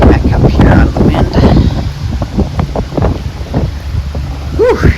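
Gusty wind buffets a boat and the microphone inside an Erie Canal lock, a steady loud rumble with a voice talking over it.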